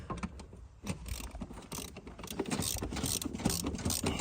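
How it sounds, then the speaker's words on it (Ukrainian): Ratchet wrench tightening bolts on the brake of a VW Golf 2, a run of quick mechanical clicks and metal taps close by, fairly steady over several seconds with no talking. "Зараз ми докручуємо наші болти."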